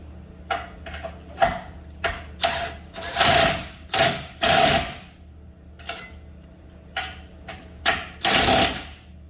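A Snap-on impact gun working on the front suspension of a 2012 Nissan Sentra, with about a dozen short and longer loud rattling bursts separated by pauses, close by.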